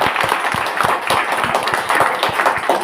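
Audience applause at a felicitation event in Uttarakhand, with steady, fairly loud clapping continuing throughout and faint voices underneath.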